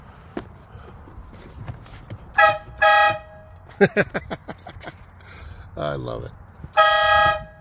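Several short, loud blasts of a mini train horn mounted on a Sprinter van sound close by, in separate bursts. A person speaks briefly between them.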